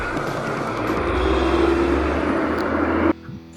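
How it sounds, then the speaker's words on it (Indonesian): A Mira economy AC bus pulls in at a stop with a loud, steady engine roar that holds close for about three seconds, then cuts off abruptly, leaving faint background noise. "Setelah menunggu beberapa menit, terdapat bus yang datang."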